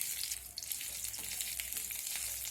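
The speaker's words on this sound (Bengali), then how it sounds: "ফোড়নটা এখানে ভাজা হয়ে গেছে।" Tempering spices and grated ginger frying in hot oil in a pan for a vegetarian moong dal with drumsticks, a soft, close, continuous sizzle with faint crackles, heard alone without talk.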